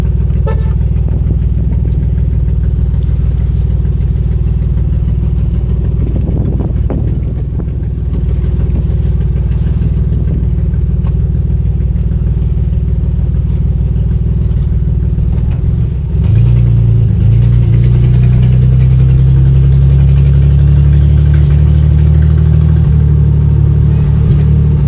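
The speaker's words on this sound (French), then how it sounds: "nous sommes à bord de la DeLorean DMC-12 de Retour vers le futur" A DeLorean DMC-12, the Back to the Future car, runs with a steady low engine drone close up from inside the cabin, the note rising slightly as it pulls away partway through.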